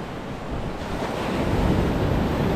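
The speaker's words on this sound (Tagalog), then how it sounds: "Alon." Ocean waves surge and crash on a resort shoreline at night, a steady loud roar of surf with wind buffeting the microphone throughout.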